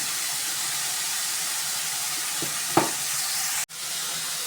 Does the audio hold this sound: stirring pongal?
yes